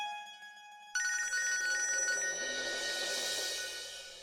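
A telephone rings after a moment of quiet: a bright electronic ringtone starts abruptly and repeats steadily and close, with no one talking over it.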